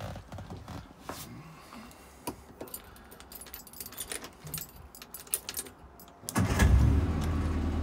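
A 1961 Morris Minor factory convertible with a pull starter: keys jangle and rattle close by for several seconds, then the engine cranks and catches into a loud, steady idle.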